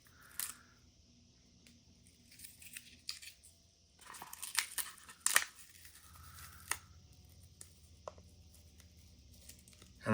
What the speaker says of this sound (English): one of the first things I'm going to do is start pulling this blue tape off